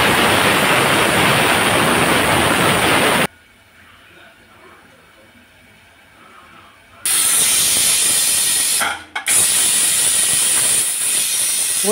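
A pressure cooker whistle releases steam in a loud, broad hiss, cooking rice for mutton biryani; the hiss stops, silence follows, then the steam blast returns with a brief break near the end.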